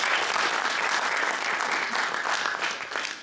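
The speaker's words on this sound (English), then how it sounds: "Please give him a big round of applause." Sustained audience applause at a PSA Korea oath-taking ceremony and cultural evening, honoring its first elected president; dense, steady clapping fills the whole stretch and tapers slightly near the end.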